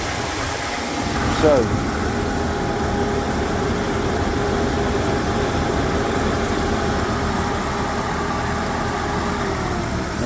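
A 1997 Jeep Cherokee Country XJ electric cooling fan runs as a steady broadband whir with engine idle beneath it, continuous and close for the whole stretch, with a brief word of speech near the start.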